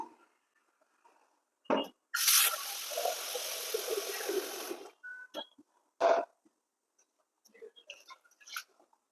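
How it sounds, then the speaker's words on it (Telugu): Toor dal (pigeon peas) being washed in water gives a sustained splashing rush of about three seconds, framed by a few short, close sloshes and rattles. "ఒక గ్లాసు కందిపప్పు తీసుకుంటున్నానండి దీన్ని మంచిగా వాష్ చేసుకుందాము"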